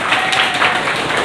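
Dense, continuous clapping and applause, loud and close, filling a brief burst with no pauses.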